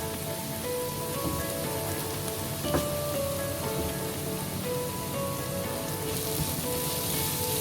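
Onion and tomato fry in a pan for palak paneer, giving a dense, even crackling sizzle that holds steady throughout, close and moderately loud, with no voices.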